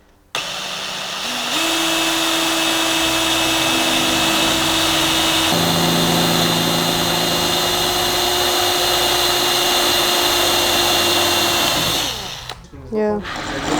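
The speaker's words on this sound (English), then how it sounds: "now we're going to drill some holes in it so we can weld it in place" Power drill boring holes in a body panel on a BMW E28 under restoration, one steady loud whine running about ten seconds with a slight pitch drop midway, then winding down and stopping.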